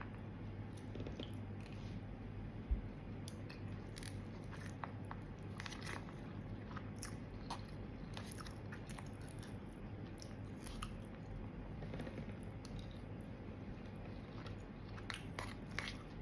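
Salt-and-chili stir-fried shrimp being eaten whole, tails and all, with close, steady wet chewing and crunching bites repeating throughout against a faint room hum.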